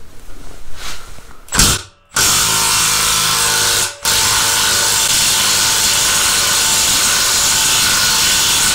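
A Milwaukee M12 FUEL cordless stubby 1/2-inch impact wrench hammers loudly at a rusted suspension component, with a short burst, a brief pause, then a long, sustained rattling run of impacts close by.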